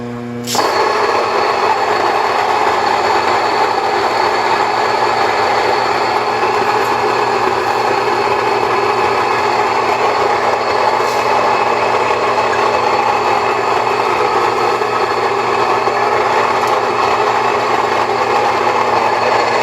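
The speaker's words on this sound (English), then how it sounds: "so the mill can grind our flour and we can get ready to assemble these muffins." A countertop grain mill grinds soft white wheat berries into flour, starting abruptly with a loud, steady mechanical whir and hum that holds unchanged for the full length, with no talking.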